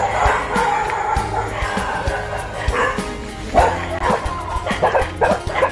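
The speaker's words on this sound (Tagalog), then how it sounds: "Dito mga aso." Several dogs bark and yip in an outdoor farm setting near woodland, with repeated sharp barks and some whimpering scattered across the clip, fairly close and loud.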